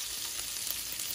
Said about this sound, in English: Alrighty then, so the sausages are now starting to sizzle.